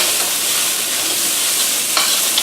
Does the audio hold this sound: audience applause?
no